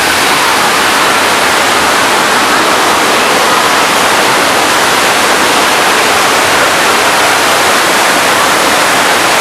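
A loud, steady roar of rushing water from a staged flood effect on a studio backlot tour at Universal Studios, dense and constant throughout with no break.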